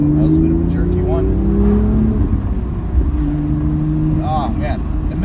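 The N55 engine of a BMW M2 accelerates from inside the car with a rising, throaty drone and steady rumble. Voices can be heard faintly over it.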